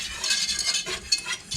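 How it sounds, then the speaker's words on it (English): A wire whisk stirs mac and cheese sauce in a pan on the stove, its steady scraping and clinking running continuously up close with no talking. "I know that wire whisk makes a ton of noise on this"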